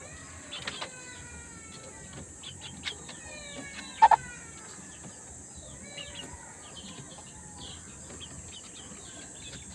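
A native talisay hen, a breeding hen with a cold, gives scattered soft clucks in a backyard with other birds chirping around it, including a short louder burst midway over a faint steady hum.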